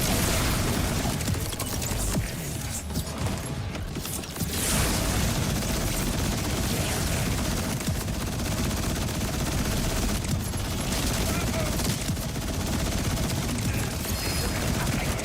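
Sustained gunfire in the Borderlands 4 video game: dense, continuous rapid shooting with overlapping bursts and mechanical clatter, loud and unbroken throughout.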